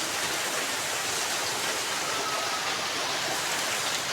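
Rain falling outdoors onto trees and leaves, a broad, loud and perfectly steady hiss like rushing water, close and uninterrupted throughout.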